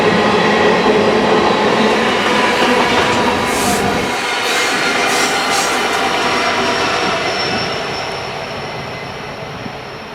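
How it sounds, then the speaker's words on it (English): Freight train rolling downhill past Blue Cut after cresting the grade, a loud, steady roar of wagons and wheels close by that holds throughout and eases off slightly toward the end. "Once part of the train crests the hill at Blue Cut, they pick up speed again going downhill."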